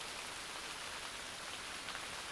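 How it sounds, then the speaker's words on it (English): Steady rain begins falling on a family glamping campsite in Michigan's Upper Peninsula, after earlier light snow, with a dense, even hiss of drops pattering on surfaces close by, soft and continuous with no voices. "It's starting to rain. It almost sounds like wet snow."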